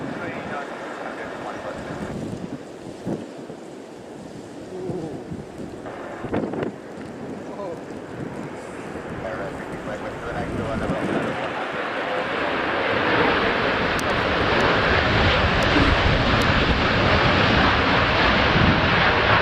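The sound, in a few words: Boeing 737 deploying reverse thrust before touchdown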